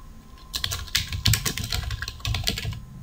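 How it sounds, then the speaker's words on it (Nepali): Fingers type on a computer keyboard at a desk, the close, crisp keystrokes clattering in quick irregular bursts with short pauses between them and no talking. "यहाँ मैले बेसिक कम्प्युटर टाइप गरे"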